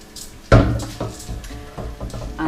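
Chickpeas are stirred into oily spices and onion in a pan, with a sharp clatter as they land followed by a run of scraping and knocking from the utensil.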